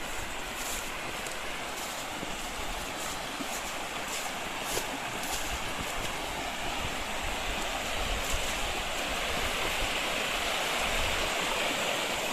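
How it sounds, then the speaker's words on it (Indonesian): The Cikawari River, a small stream feeding the Cikapundung near Bandung, rushes in a steady broadband roar of flowing water, close and continuous, with no speech. "Ini adalah aliran Sungai Cikawari."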